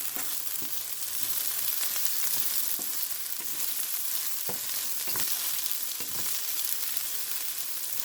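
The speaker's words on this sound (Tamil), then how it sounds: "அதையும் போட்டு நல்லா திருப்பி எடுத்து விடுவோம்" Okra (ladies finger) frying in a pan, a steady loud sizzle running throughout with soft scraping stirs at intervals, no talking.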